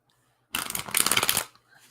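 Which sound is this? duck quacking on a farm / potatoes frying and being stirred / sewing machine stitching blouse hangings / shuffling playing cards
shuffling playing cards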